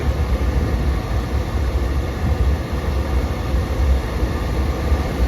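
A steady, loud low roar of an RV furnace burner and blower running continuously, with no voices.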